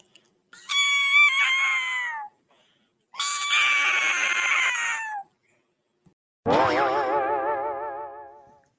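A cat yowls outside a window at night in three long, loud, wavering cries separated by short silences, the last one rising sharply and warbling as it fades.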